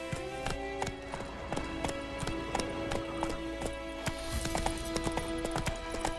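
Roach the horse gallops in The Witcher 3 video game, hooves clip-clopping in a fast, steady, close rhythm that runs the whole time, with no talking.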